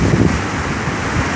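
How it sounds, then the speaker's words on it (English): Heavy wind during Hurricane Irma roaring and buffeting a nearby microphone, a loud, continuous gusty rush. "I hear some heavy wind coming."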